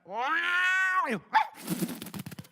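A person's voice imitates a cat with a long, drawn-out meow that bends downward, followed by a short chirp, then a burst of scratchy, rustling noise.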